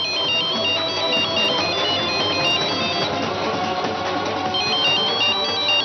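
Phone ringtone ringing loudly and alone, a bright repeating electronic melody cycling steadily for several seconds without pause.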